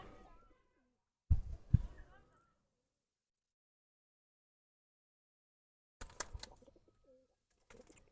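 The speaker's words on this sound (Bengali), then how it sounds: "মাশাল্লাহ খুব সুন্দর একটা কবুতর" A pigeon at a rooftop pigeon loft cooing in short low bursts, separated by silence, with people speaking nearby.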